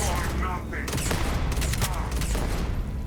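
Rifle fire in a shooter video game, a rapid burst of sharp shots over a busy, loud game mix with other action sounds.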